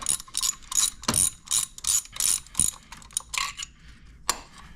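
Rapid bursts of ratchet clicks from a ratchet driving a 5/8 deep well socket on the spark plugs of a 2009 BMW 128i N52 engine, close and sharp, pausing between strokes and ending with a few lone clicks.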